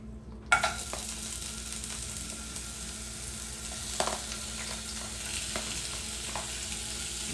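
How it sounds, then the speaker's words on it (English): Zucchini dropped into hot oil sets off a sudden sizzle that settles into steady, close frying with occasional stirring clicks, no talk. "Okay, so it's heated up, and I'm going to put in my zucchini."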